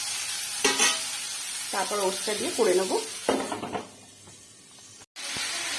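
Vegetables frying in a pan, long beans, eggplant and onion, give a steady close sizzle with stirring, running beneath a woman's speech and fading near the end.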